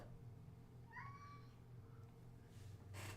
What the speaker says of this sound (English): The cat wants love.